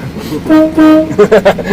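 A Lublin van's horn blares in several close, loud blasts with a deep, train-like tone, with voices nearby, during a road rally.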